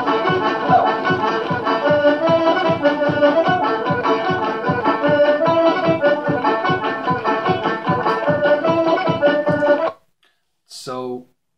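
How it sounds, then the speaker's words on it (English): A fast, lively Irish polka tune plays at a quick driving beat with steady bouncy pulses for about ten seconds, then stops, followed by a short upward squeak or slide. "Irish music polkas are played fast."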